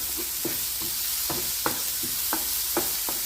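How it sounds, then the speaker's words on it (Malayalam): Chopped tomatoes are sautéed in a pan for an egg pizza, with a soft steady sizzle under repeated scraping strokes of a spoon, close and moderately quiet. "നന്നായി ഒന്ന് വഴറ്റിയെടുക്കാം"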